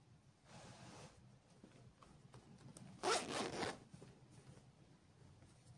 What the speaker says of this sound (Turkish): Şöyle iç kısmından da bir fermuar daha yaparak cep yaptım.